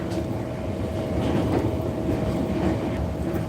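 Train rolling along rails on a long-distance trip from Da Nang to Quy Nhon, a steady close rumble of wheels and carriage noise with a faint persistent hum, heard from inside the car with no talking.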